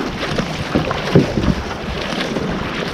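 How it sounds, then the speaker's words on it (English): A fishing boat punches across rough sea waves off Navy Island, Jamaica, with steady wind roar buffeting the microphone and a few dull thumps as the hull meets the swell. No one speaks. "Right now some waves gonna hit us."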